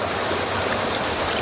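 A river flows in a loud, steady broadband rush close by, continuous throughout with no voices.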